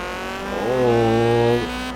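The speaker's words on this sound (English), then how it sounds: "hear that engine purr?" A car engine in the Forza Horizon racing game revs up sharply, holds a loud steady drone for about a second, then drops back to a lower hum.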